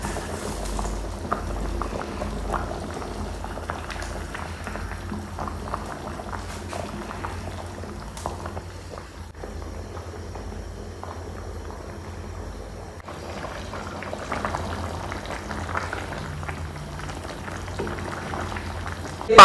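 Rice and chicken simmer in stock for kabuli pulao on a stovetop, a steady bubbling boil with a soft rolling texture that continues throughout at moderate level, without talk.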